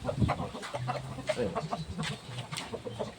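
Chickens cluck close by in short repeated bursts, with one brief louder squawk near the start and no speech over them.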